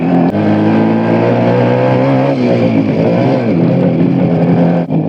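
A motorcycle engine runs loud and close throughout, a steady harmonic drone that rises and falls slightly as it moves along a street where riders pass constantly.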